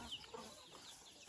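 Chickens cluck faintly in a remote forest village in rural Laos, with soft scattered clucks and calls against a quiet outdoor background.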